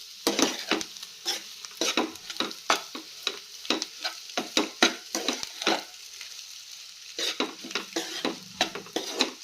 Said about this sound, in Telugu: వేసుకొని బాగా మిక్స్ చేసుకోవాలి.